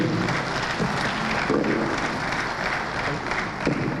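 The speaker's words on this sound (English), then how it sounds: "I think he deserves a bigger applause, please." An audience at a venture capital program event claps steadily for several seconds, a dense, even patter with a faint voice beneath it.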